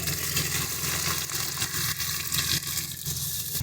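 Garlic paste, ginger paste and green chili paste sizzle steadily in a hot pan, a dense continuous frying hiss with faint stirring, close and fairly loud with no talk.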